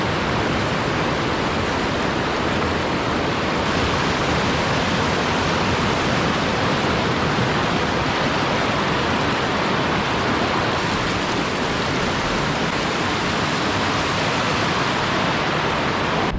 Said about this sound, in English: crossing the Guinea Brook, ice cold water